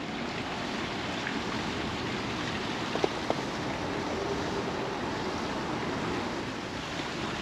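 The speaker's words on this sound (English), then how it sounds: "I hear some running water" Running water at a canal lock, a steady broadband rushing wash at moderate distance, continuous and even with a couple of brief faint knocks.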